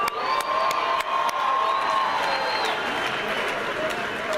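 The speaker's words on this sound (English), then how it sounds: "Can we give them a big round of applause?" A large outdoor crowd at a Freedom Day celebration cheers and whoops steadily, with scattered claps and shouts under a continuous roar of voices.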